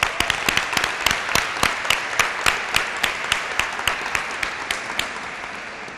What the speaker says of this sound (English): let's give each of our interns a round of applause